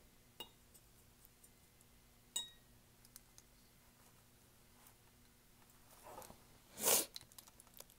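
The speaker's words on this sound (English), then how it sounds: "you can rinse your brush out" An acrylic paintbrush is rinsed in a water jar in a quiet room: a few faint, sharp clinks of the brush against glass, then a soft swish and a brighter tap near the end.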